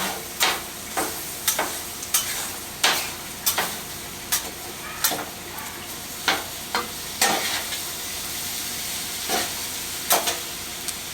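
Imitation crab is broken up and fried on a Griddle Master griddle top, with a continuous hissing sizzle punctuated by sharp, regular scraping taps of a spatula against the metal surface.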